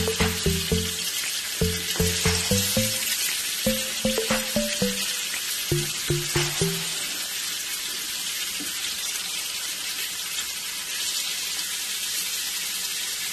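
Pearl spot fish, Kerala karimeen, fries in a pan with a steady close sizzle throughout, broken early on by quick clinking and scraping taps as the pieces are turned.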